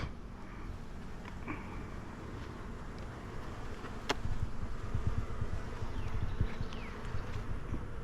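Honey bees at a hive buzz in a low, continuous drone close by, with a few faint knocks and a rustle partway through.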